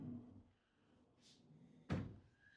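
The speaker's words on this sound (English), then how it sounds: "You got the slide door." A sliding door to the utility room of a Clayton manufactured home rolls shut and ends in a sharp thump, following a quiet stretch with faint low rumble.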